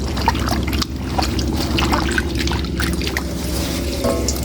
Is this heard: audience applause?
no